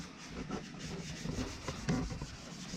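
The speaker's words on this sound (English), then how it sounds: "we're just sanding down, scuffing up the bay, the primer, self-etching primer" Close, continuous abrasive scuffing of self-etching primer being sanded on a car's engine bay, a rasping rub with a few louder strokes near the end.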